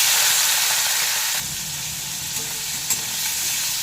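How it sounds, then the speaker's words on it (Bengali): Shrimp coated in salt and turmeric fry in hot mustard oil, a steady, loud, close sizzle that hisses continuously and eases slightly partway, with a faint clink near the end. "এবার চিংড়ি মাছগুলোকে নুন হলুদ মাখিয়ে ভেজে নেব"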